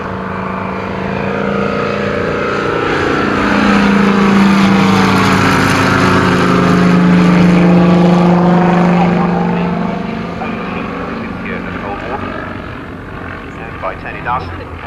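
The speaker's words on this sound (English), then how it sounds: "Powered by a 140 horsepower Armstrong Citiogenic motor" A vintage propeller aircraft with a 140 hp Armstrong Siddeley Genet engine passes by loudly, its buzzing drone rising, peaking and falling away as it flies overhead, with voices faintly audible toward the end.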